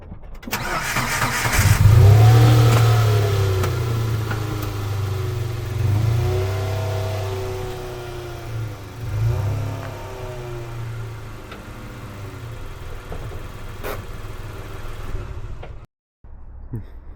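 A Nissan Micra's engine starts and idles, then revs as the car is driven off a workshop ramp, loud and close, with a steady mid-pitched drone throughout.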